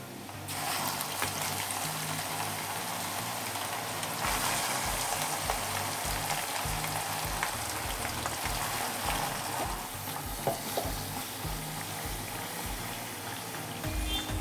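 Mutton pieces fry in hot oil for Nellai-style ennai kari, giving a loud, dense, continuous sizzle up close with a few soft clunks from pieces going into the pan.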